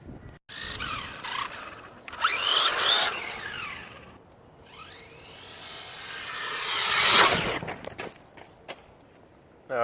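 A WLtoys 12428 RC car on its stock motor makes speed runs outdoors, its high electric whine rising and falling as it swoops past twice, loud up close and fading between passes.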